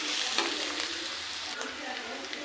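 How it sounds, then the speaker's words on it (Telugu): Ginger garlic paste frying in a pan makes a dense, bright sizzle up close, with a few stirring scrapes over a short, even stretch. "ఒక స్పూన్ అల్లం వెల్లుల్లి పేస్ట్ వేసుకొని పచ్చి వాసన పోయేదాకా ఫ్రై చేసుకోవాలి"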